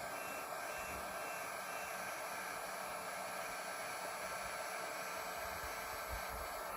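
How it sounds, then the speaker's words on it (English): A DeWalt heat gun blows steadily at a solder connector on a wire, giving a constant airy whoosh throughout. It stays fairly quiet and there is no talking. "I'm using a high quality DeWalt heat gun."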